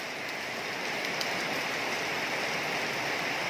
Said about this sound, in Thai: ฝนกระตกแล้วค่ะ